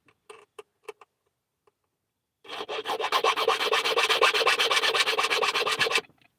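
A metal file rasps rapidly back and forth across a key being made into a bump key, a fast rhythmic scratchy stroking that starts after a few light taps and runs about three and a half seconds, close and moderately loud.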